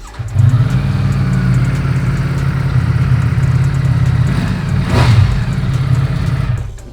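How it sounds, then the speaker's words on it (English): A V4 motorcycle engine with stock exhaust growls with a deep, steady rumble, swelling into a rev near the end, loud and close with no voices. "growl of the V4 is unmistakable"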